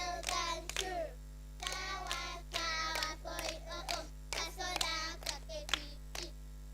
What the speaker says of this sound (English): Clap, Eliana.